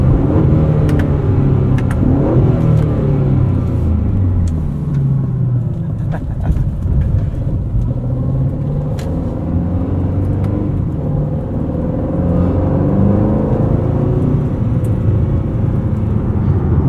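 A 2024 Aston Martin DB12 with a 4-liter V8 drones and snarls under load as it drives, a steady loud engine growl rising and falling heard from the cabin.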